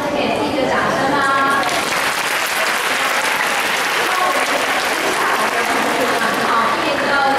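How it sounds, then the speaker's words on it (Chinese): High school students at a singing competition applaud together, a steady, loud wash of clapping that fills the room without a break, with scattered voices mixed in. "那我们再给自己一个掌声吧"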